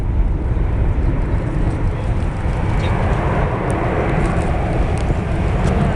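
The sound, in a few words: Airbus A380 airliner flying display at Farnborough air show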